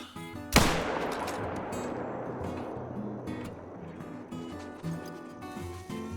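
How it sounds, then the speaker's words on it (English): A single sharp rifle shot aimed at a coyote in the hunting game theHunter: Call of the Wild cracks loudly near the start, then trails off into a long outdoor echo and ambient rumble. "I picked out a decent female and took a shot."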